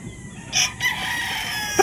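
A gamefowl broodcock rooster at a gamefarm in Bustos, Bulacan crows once, a nearby, strident call rising midway through, with faint clucking and farm ambience around it.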